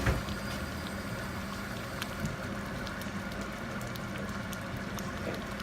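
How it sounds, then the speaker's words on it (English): Water bubbles and rumbles steadily at a full boil, a dense, continuous churning with faint pops and clinks on top. "Boiling water. You look at the boiling water."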